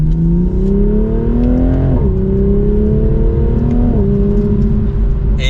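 A 2023 Toyota GR Supra 3.0 engine roars loudly and close, rising in pitch through gear changes as it accelerates hard.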